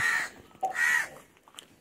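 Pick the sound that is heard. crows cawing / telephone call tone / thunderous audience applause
crows cawing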